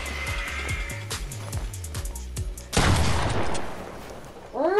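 Rapid bursts of gunfire in the video game Fortnite, a quick rhythmic string of shots followed by a louder blast and a noisy wash, ending with a rising synthetic whoosh.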